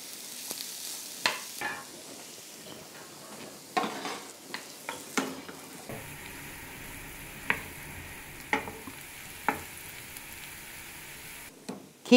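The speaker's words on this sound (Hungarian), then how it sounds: "egy kis vajon meg fogjuk párolni ugyanabba a serpenyőbe a kockára vágott cukkinit" Diced zucchini sizzles steadily while sautéing in butter in a frying pan, with sharp scrapes and clacks of stirring breaking through the hiss at irregular intervals.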